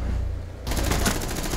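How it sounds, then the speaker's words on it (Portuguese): Gunfire in the video game Rainbow Six Siege erupts suddenly after a quieter moment, a loud, rapid burst of automatic shots with hit sounds, continuing to the end. "Deu barulho dele tomando tiro ali"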